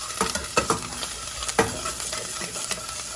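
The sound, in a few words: ginger sautéing in a pan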